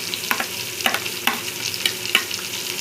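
Vegetables, cauliflower and soybeans among them, frying in a pan for vegetable biryani, a steady close sizzle broken by repeated scraping stirs, with no voices.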